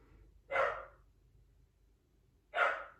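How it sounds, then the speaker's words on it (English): Two household dogs give two single muffled barks about two seconds apart, faint and in the distance, in an otherwise quiet room with no talking. "Those are our dogs."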